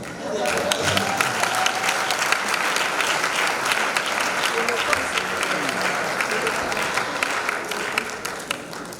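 An audience at a 60th birthday celebration for an archbishop breaks into dense, sustained applause, a steady wash of many hands clapping at moderate volume for about nine seconds.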